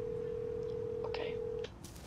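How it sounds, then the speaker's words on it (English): A steady electronic phone tone from the video game Hello Neighbor hums for most of the clip, then cuts off, with a few soft clicks and game-like noises around it. "I'm gonna call him through the phone"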